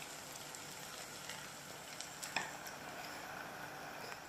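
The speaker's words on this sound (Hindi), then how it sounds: "गोल्डन ब्राउन होने तक हम इनको फ्राई करेंगे, फ्लेम को आप हाई ना रखें।" Onion pakoras frying in oil over moderate flame, a steady soft bubbling sizzle running throughout with a brief sharper crackle midway, fairly faint and with no talking.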